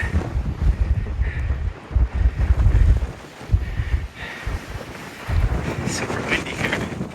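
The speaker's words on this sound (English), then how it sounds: "Super windy here." Strong gusting wind on a mountain trail near Wasson Peak buffets the microphone in rough, low roaring bursts, rising and falling throughout with no voices.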